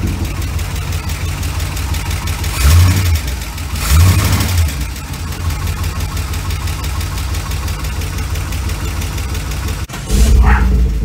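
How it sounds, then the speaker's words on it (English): A Datsun 280Z engine fired by a push-button start catches for a split second and dies, a couple of brief loud bursts over a steady background hum, then a final short start near the end. "it to start for like a split second and then it kills"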